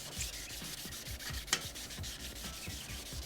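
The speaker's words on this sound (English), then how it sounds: "I've got 1000 grit wet sandpaper and we're just gonna go at it" Steady back-and-forth rubbing of 1000-grit wet sandpaper against rusty metal on a 1981 Honda CM200T Twinstar motorcycle, close and continuous with repeated short strokes and one sharper scrape midway.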